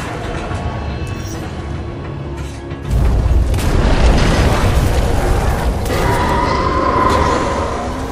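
A deep, rumbling explosion in Titanfall 2 erupts and rolls on, layered booms and debris crackling over a sustained low roar that stays loud until the end.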